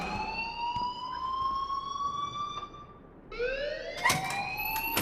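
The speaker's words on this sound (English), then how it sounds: "please turn off that alarm since that's your" A school fire alarm in the Life is Strange video game wails in rising, sweeping siren tones, loud and continuous, with a brief dip before the sweep restarts and sharp clicks cutting across it.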